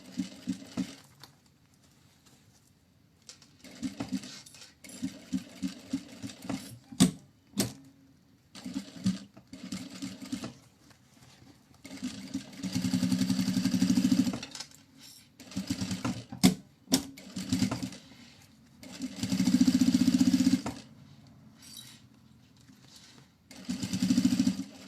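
A sewing machine runs in short bursts, then in longer steady runs, stitching the bottom seam of a fabric bag 1 cm from the edge, with quiet gaps between the passes.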